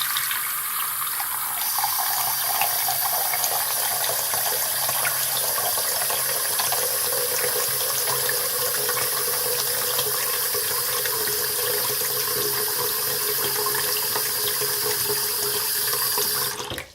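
Tap water pours steadily into a bathroom sink with the drain closed, a continuous bright splashing rush that stays loud and even from start to finish, with no voices.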